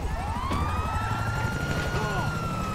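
Helicopter rotor drone in the GTA 5 LSPDFR police game, a steady loud thrum overhead while a police siren wails in rising and falling sweeps, with radio-style game audio mixed in.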